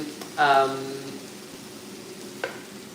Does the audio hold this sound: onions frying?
yes